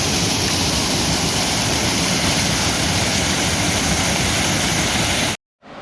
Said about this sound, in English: Those rapids down there.